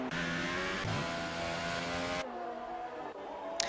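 A racing video game car howls around a hot lap at Melbourne, the engine loud and close with rising revs, an abrupt gear change, then a lower rising note, with no talk.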